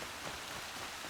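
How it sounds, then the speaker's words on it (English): Steady rainfall in the video game Horizon Zero Dawn, a soft continuous hiss of drops with no distinct impacts, fairly quiet and even throughout. "It's raining."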